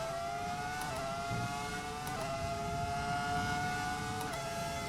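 F1 race car engine from the F1 2003 video game held at high, steady revs through a French Grand Prix round, a continuous loud whine with brief dips at each upshift roughly every second.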